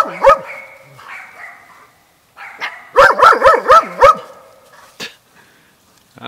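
Puppies barking and yipping nearby in short, high-pitched bursts, a few scattered yaps followed by a quick cluster of several barks in a row, with quieter pauses between.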